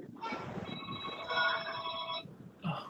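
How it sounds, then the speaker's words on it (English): A telephone ringtone sounds as a steady electronic ringing for about a second and a half, fairly clear and close, with faint background noise before and after it. "Someone's phone's going off again."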